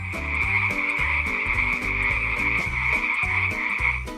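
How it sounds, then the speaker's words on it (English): A dense chorus of 37 frogs croaks continuously and loudly, rhythmic overlapping calls pulsing over a steady high-pitched trill. "Life with 37 frogs was anything but quiet."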